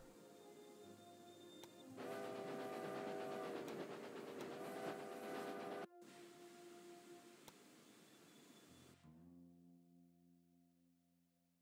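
A train runs along the rails in Railway Empire 2, a continuous rolling rumble with rhythmic clatter and hiss that swells, then drops away to a quieter hum near the end.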